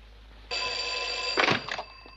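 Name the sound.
telephone bell ringing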